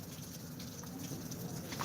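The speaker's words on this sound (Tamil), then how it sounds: "மழை பெஞ்சிட்ருக்கு இப்படி மழை பெஞ்சால் எப்படி வேலை பார்க்குறது" Steady rain falls in Kovilpatti, a soft, even patter that holds quietly throughout with no voices.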